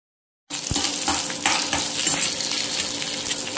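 Curry leaves crackle and sizzle as they roast in hot oil, a loud, steady frying hiss with sharp pops starting abruptly after a brief silence.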